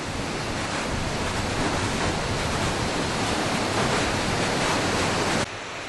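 A waterfall on a river where lava once met the water roars as a dense, steady rush, loud and close, holding unchanged before dropping slightly near the end.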